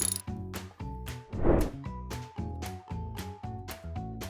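Torque wrench tightening the clutch screws on a Citroën C3 mk1 1.4 HDI, with rapid rhythmic ratchet clicks in repeated bursts, close and clear, no talking.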